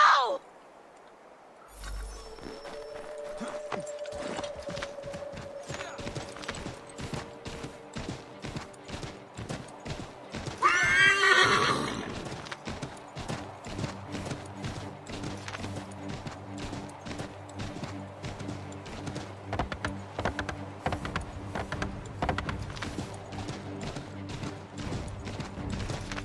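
Horse hooves clip-clop in a steady rhythm through a forest scene in the video game Assassin's Creed 3 Remastered, moderately loud, with a brief louder burst near the middle; people talk over parts of it.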